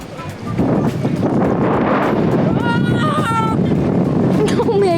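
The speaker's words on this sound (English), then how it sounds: "This is one of the windiest days ever." Strong wind buffets the microphone on a windy fishing day by the water, a loud, constant roaring rush, with a voice talking under it.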